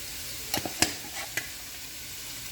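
Onions with salt and turmeric powder fry for a bean thoran while a spoon stirs them, giving a few sharp scraping knocks over a quiet, steady sizzle.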